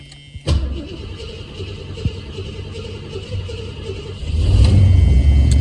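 A cold 1979 red AMX cranks after a short click, its engine catching and settling into a steady low rumble that swells louder toward the end, heard close with no talking.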